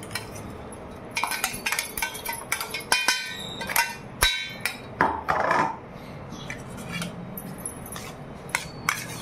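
A spoon clinks and scrapes against a bowl while sabudana is mixed with crushed peanuts, sharp metallic taps in an irregular rhythm, close and fairly loud with no talking.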